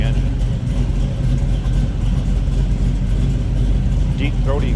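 A 1970 Chevrolet Nova idles steadily at close range, its deep, throaty exhaust carrying a slight lumpy cam rhythm, loud and continuous without pause.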